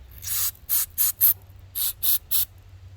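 An aerosol cleaner can sprays into a disassembled Honda Rancher ATV carburetor in seven short hissing bursts, each about a quarter second, close and loud against a quiet low hum.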